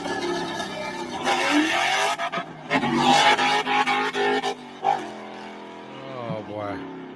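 A car engine screams at full throttle, pitch climbing and dropping through gear changes, while excited voices talk and shout over it.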